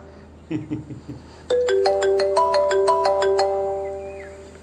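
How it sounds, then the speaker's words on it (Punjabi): A phone ringtone plays a bright electronic melody of repeating tones, steady and fairly close, after a brief murmur of voices. "ਕਿਹਦਾ ਫੋਨ ਆ ਗਿਆ?"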